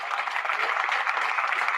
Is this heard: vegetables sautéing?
no